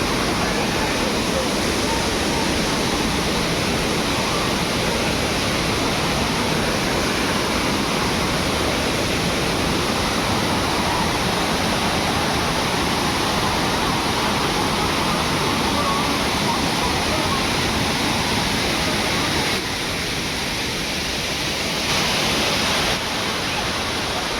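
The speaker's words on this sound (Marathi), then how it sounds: "आता जरा इकडून बघूया आपण धबधब्याचं कसं वाटतंय ते रूप" The Savdav waterfall in Konkan roars in a steady, dense rush of falling water, loud and close, unbroken from start to finish.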